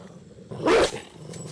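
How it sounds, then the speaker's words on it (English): A dog in a film scene gives a single loud, rough fighting growl lasting under half a second, close up over a quiet background, followed by faint rustling. "Those are fighting growls."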